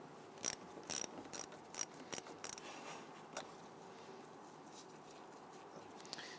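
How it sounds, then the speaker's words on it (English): A 10mm socket ratchet loosens the battery ground terminal on a 2010-2013 Kia Soul, a close quick burst of sharp clicking ratchet strokes in short runs, then a few faint clicks and quiet handling. "Using a 10mm socket, we want to go ahead and disconnect the ground terminal on the battery."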